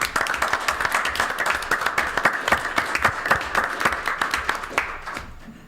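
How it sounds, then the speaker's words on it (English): A room full of people at a township committee meeting breaks into a round of applause, dense steady clapping for about five seconds before tapering off at the end. "So round of applause for everybody"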